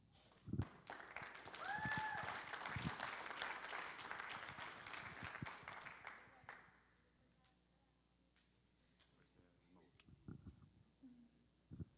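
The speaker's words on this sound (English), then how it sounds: "So big applause to Alba for this" Conference audience applause rises into a steady, dense round of clapping for several seconds, then fades out. A few isolated claps and light room noise follow.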